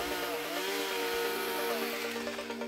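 A firefighters' chainsaw cutting a fire line on a hillside runs loud and steady, its engine whine holding a constant pitch, then dipping slightly as it bites into wood, with no voices.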